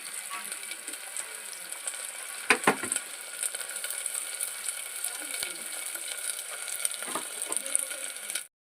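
Sliced onions fry in a pan for a prawn curry, giving a steady, fairly faint crackling sizzle throughout with a few louder scraping clinks, and no talk over it.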